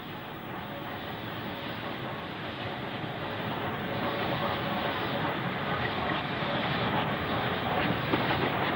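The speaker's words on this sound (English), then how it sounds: "A Black 5 southbound with coal empties." A Black 5 steam locomotive runs southbound hauling empty coal wagons, a steady rumbling roar that slowly swells and grows louder throughout, with no voices.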